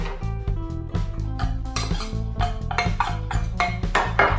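Cumin, chili powder and zest being mixed into melted butter, heard as a rapid run of close metallic clinks and taps of a utensil against a bowl, with no talking.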